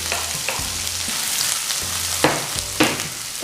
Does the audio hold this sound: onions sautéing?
yes